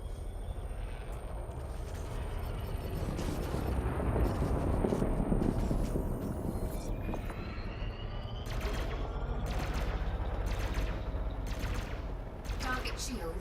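Ships in the space game Elite Dangerous trade fire in a continuous rumbling, crackling barrage, with sharper laser-like pulses toward the end and a voice speaking over it.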